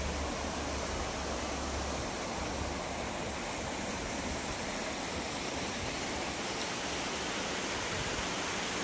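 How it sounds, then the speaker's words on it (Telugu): Water released downstream through the old crest gates of Kanigiri reservoir rushes in a steady, dense roar that holds at the same level throughout, with no voices. "దిగువ ప్రాంతానికి నీటిని విడుదల చేస్తూనే ఉన్నారు"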